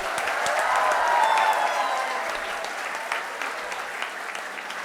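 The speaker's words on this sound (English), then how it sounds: "Let us clap for everybody who is there in the event, not in the event." A conference audience at a valedictory ceremony applauds steadily, a dense, even wash of many hands clapping from the hall for about five seconds with no talk over it.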